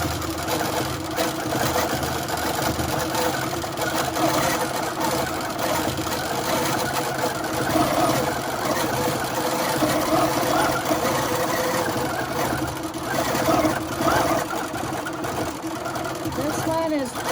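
A sewing machine quilting the final roll of a butterfly log cabin quilt, running in one continuous fast mechanical whir with a steady stitching chatter, loud and close throughout.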